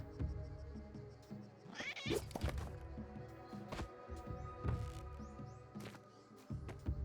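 A cat meows in Spelunky 2, heard as short cries amid busy game sounds, thumps and clatter that keep running throughout.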